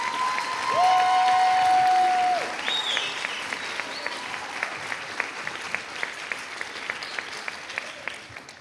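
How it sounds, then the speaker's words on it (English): Audience applause for students at an orchestra pops concert, a steady wash of clapping from a crowd with a whistle-like tone near the start, thinning gradually into scattered claps toward the end. "one more round of applause for these students"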